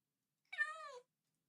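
A single cat meow in a video game, one clear, slightly falling half-second call that stands alone against silence.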